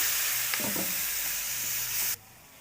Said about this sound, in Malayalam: നന്നായി ചൂടായിട്ടുണ്ട് ഇനി അതിലോട്ട് കുറച്ച് വിനാഗിരി ഒഴിച്ചു കൊടുക്കാം